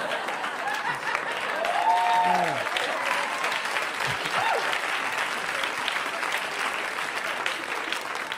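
Comedy club audience breaking into applause at a stand-up show, dense clapping with a few chuckles, steady and fairly loud across the room, with some voices mixed in.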